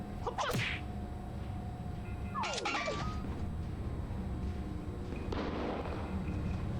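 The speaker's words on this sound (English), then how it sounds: "let's try to throw the grenade at it" Game sounds from the video game Dreadway, where a thrown grenade goes off: sharp whooshing sweeps and bursts over a constant low rumble, with a later noisy blast, no talk.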